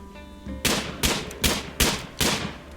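Gunfire from a drafted colonist hunting in the Rimworld video game: five evenly spaced, sharp shots about half a second apart over a low background hum, with no talking.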